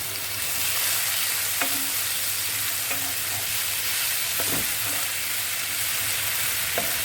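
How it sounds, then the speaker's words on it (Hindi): Ginger garlic paste fries in hot oil in a pan for methi chicken, a loud, dense, hissing sizzle throughout with a few faint spatula taps, close up and with no talking. "पैन में 1 टेबलस्पून ऑयल और लिया है और इसके अंदर सबसे पहले हम डाल देंगे जिंजर गार्लिक पेस्ट।"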